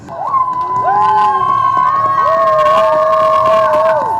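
Crowd at an outdoor Epiphany Three Kings procession in Wrocław cheering loudly, with sustained whoops and shouting voices rising and falling over a continuous roar.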